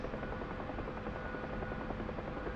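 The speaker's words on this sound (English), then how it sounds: "My helicopter's not flying straight anymore" A helicopter in a video game, heavily damaged, thrums with a dense, steady rotor chop that fills the clip at an even level with no talk.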